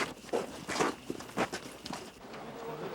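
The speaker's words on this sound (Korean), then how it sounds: "오로지 주위에 있는 것은 자신의 숨소리와 전우들의 발자국 소리뿐" Special forces soldiers march on a long-distance infiltration training trek, their footsteps crunching in an uneven, close rhythm over a noisy outdoor background.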